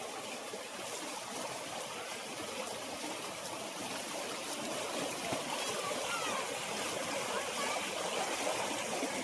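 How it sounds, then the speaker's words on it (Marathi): Small stream in the Konkan countryside suddenly swollen with rainwater, a faint but steady wash of rushing, gurgling water that continues without a break throughout. "एका क्षणात पाणी वाढलं"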